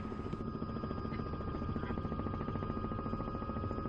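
Helicopter in Microsoft Flight Simulator 2024, a steady close rotor and turbine drone with a rhythmic thrum and whining tone, continuous and fairly loud throughout.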